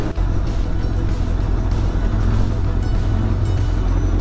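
A Honda CB750F motorcycle crosses a high bridge in the early morning, its engine a loud, steady rumble with heavy wind roar throughout and no talk.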